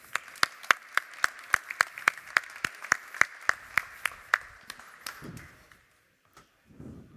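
A single person claps slowly and steadily at a modular blockchain summit panel, about twenty evenly spaced sharp claps that fade out, followed by faint rustling and quiet noise.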